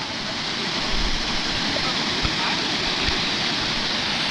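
A large waterfall at Jharuwarashi Santaneshwor roars as a dense, continuous wash of rushing water, loud and close, with a few faint low thumps beneath it.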